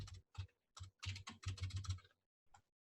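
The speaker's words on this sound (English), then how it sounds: "You could see I'm typing because I can't spell, so I'm doing my best." Quiet bursts of keystrokes on a computer keyboard come in irregular clusters of rapid clicks with short pauses, close and alone, ending with a final isolated tap.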